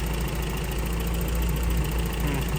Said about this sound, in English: we may have improved our tick, but it's definitely still there. It's just not as loud.